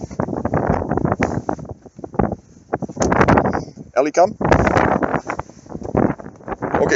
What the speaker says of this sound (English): It's a little windy, but it is a beautiful day.